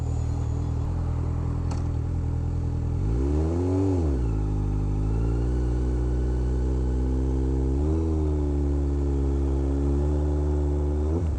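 A motorcycle engine idles steadily and rises in a brief rev during a hill start made using only the front brake, the pitch swelling, dipping and settling again into a close, continuous drone with no talk.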